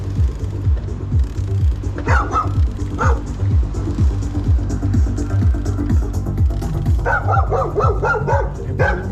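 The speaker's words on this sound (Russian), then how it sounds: "О, собаки. Собаки — это плохо." Several dogs bark loudly and repeatedly nearby on a January route between Adler and Sirius in Sochi, a rapid run of barks and yips with some whimpering, going on almost without pause.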